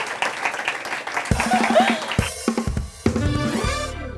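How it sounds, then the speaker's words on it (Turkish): Studio audience applauding guest Özge Özpirinçci on a Turkish late-night talk show, a burst of clapping over music that swells then breaks off, with voices talking over it. "Alkışlıyoruz Özge'yi."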